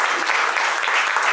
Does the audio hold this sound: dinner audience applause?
yes